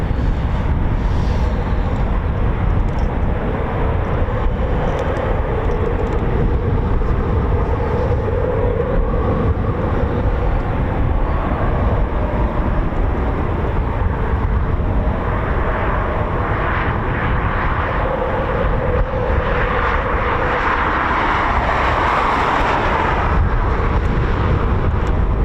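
Steady, loud roar of a Eurofighter Typhoon FGR4 jet at RAF Coningsby, a broad continuous rumble that swells slightly toward the end as it passes.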